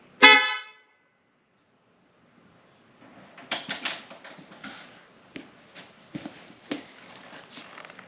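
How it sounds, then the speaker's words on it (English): FARBIN dual tone horns fitted to a lifted Bintelli Beyond 4PR golf cart give one short, loud, close blast, followed by silence and then scattered clicks and handling knocks. "I went ahead and installed these FARBIN dual tone horns"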